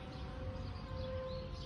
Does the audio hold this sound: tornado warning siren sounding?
yes